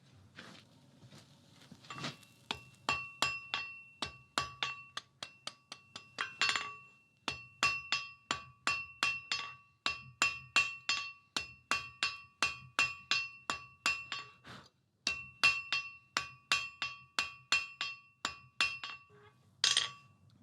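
A hammer forging a hot steel bar on an anvil, dozens of sharp ringing metallic strikes in a steady rhythmic pattern, broken by a few short pauses.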